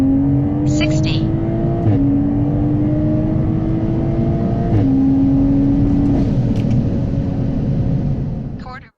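Tuned Toyota A90 MKV Supra with a Stage 2 tune accelerating hard from 30 to 90 mph: a loud, close, continuous engine drone rising in pitch through each gear, dropping briefly at two shifts, then cutting off at the end.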